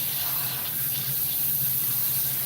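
Tap water runs steadily from a salon sink faucet while hair is rinsed, a constant broad rushing splash held close and loud throughout with no talking.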